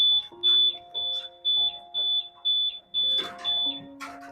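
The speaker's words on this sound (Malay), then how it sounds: "Kali ni dia beep lama sikit sebab ada gangguan yang lama pada motor." A Modenas Elit 150S motorcycle's anti-theft alarm beeps in repeated short bursts after prolonged tampering, shrill and close, with a few muffled clatters toward the end.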